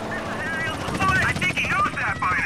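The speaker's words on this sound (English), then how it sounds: "They got helicopters and everything." A helicopter's rotor in Grand Theft Auto: San Andreas chops steadily in the background while a voice talks over it with game sounds mixed in.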